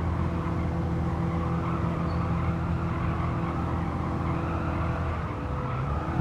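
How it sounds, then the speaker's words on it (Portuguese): An electric car driving in Gran Turismo 7, giving a loud, steady electric motor whine with low humming tones and faint tyre scrub, continuous and close, with no voices. "E agora é esquisito o barulho do carro"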